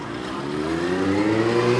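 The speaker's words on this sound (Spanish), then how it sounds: "Espera, espera, que paso unos coches, estoy en la calle." Cars passing along a city street, a steady rising engine rumble and tyre roar that swells as vehicles drive close by, continuous with no speech.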